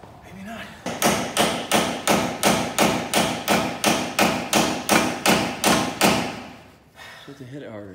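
A hammer strikes a leaf spring shackle on a Toyota FJ40 Land Cruiser in about seventeen steady, evenly spaced metallic blows, close and loud, before the hammering stops.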